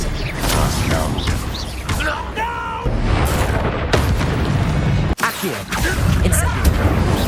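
Spellcasting in Hogwarts Legacy: whooshing magical bursts and booming impacts follow one another rapidly, with a sharp crack near the end, over a busy game soundtrack with some voices.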